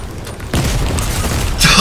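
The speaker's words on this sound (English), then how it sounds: "Rocket launcher!" A rocket launcher explosion in the Fortnite video game: a loud, sudden boom about halfway through, then sustained rumbling blast noise with a brighter burst near the end, under excited game chatter.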